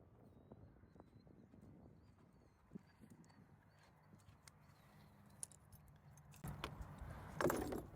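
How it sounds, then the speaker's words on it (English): A mare named Halo being saddled, metal buckles and tack jangling in quiet, faint bursts, with a louder rustle and clatter near the end as the saddle settles on her back. "So we'll go ahead and saddle her."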